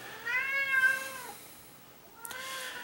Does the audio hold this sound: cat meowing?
yes